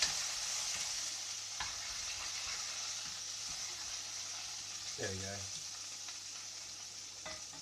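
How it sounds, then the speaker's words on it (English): Sausage frying in a pan with a steady, quiet sizzle throughout, plus occasional stirring scrapes and a brief burst near the end; a voice speaks briefly. "You've got to sizzle that sausage."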